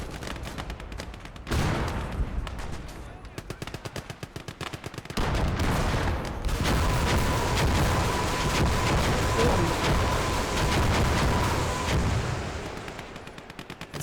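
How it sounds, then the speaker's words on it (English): In the Gates of Hell battle game, BM-8 rocket launchers fire salvo after salvo, loud rapid cracks and whooshing bursts packed into dense volleys over a continuous battle roar, with explosions and gunfire mixed in. "It's like a crazy driver is inside this BM-8 firing rockets in all directions."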